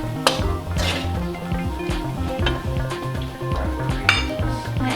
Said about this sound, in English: just fry until the rice is a bit dry